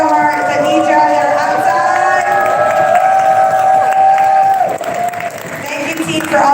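Audience applause and cheering for a promo team at a live event: a loud, sustained roar of clapping mixed with shouting voices that dips briefly near the end before swelling again.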